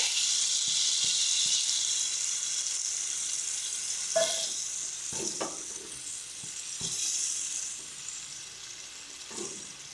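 Yam stalks and prawns fry in a pan with a loud, steady sizzle. Occasional clinks of a spoon stirring the pan are heard, with no talk.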